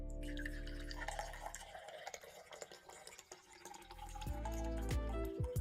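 Fresh carrot pineapple juice streams from a juicer spout, a steady trickling and dripping pour under the machine's hum, which swells louder toward the end.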